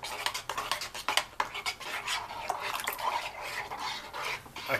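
Cornmeal being stirred into about 400 ml of water to dissolve it for angu, a spoon clinking and scraping rapidly against the side of a container, close and fairly quiet.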